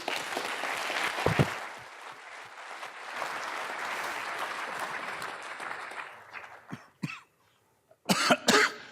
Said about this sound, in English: I'm just going to now cough for 5 minutes